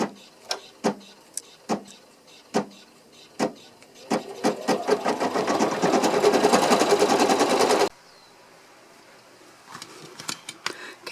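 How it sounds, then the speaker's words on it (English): An embroidery machine stitches a stippling fill on a cellphone holder, starting with scattered sharp clicks, then running in a steady rapid whir for a few seconds before stopping abruptly, followed by faint scattered clicks. "my third and final stitching for this hooping is going to be the stippling"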